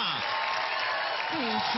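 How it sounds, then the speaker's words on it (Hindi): A studio audience applauds Sonakshi Sinha on the India's Got Talent stage, a steady dense wash of clapping and crowd noise throughout, with faint voices beneath. "एक बार जोरदार तालियां को सोनाक्षी सिन्हा"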